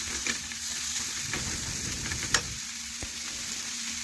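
Chopped tomato, cumin powder and spices sizzle and crackle in a hot pan as they are stirred, with a steady frying hiss, a few scraping stirs and one sharp knock, no talk.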